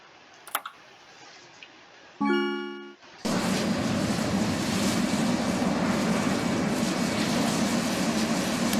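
A Concorde jet in the Roblox game Aeronautica: after a few soft clicks, a brief tonal engine whine tapers off, then a loud, steady broadband jet roar fills the rest of the clip.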